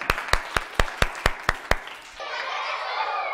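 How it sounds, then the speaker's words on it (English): Eight sharp, evenly spaced hand claps in a steady rhythm, followed by a soft wash of broadband hiss. "Applause."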